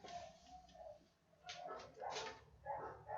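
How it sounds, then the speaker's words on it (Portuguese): Neighbourhood dogs bark and yip together at a distance, faint but persistent, the barks coming in uneven bursts. "Os cachorros aqui da vizinhança resolveram todos latir juntos."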